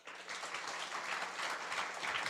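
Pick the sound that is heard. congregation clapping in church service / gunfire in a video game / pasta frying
congregation clapping in church service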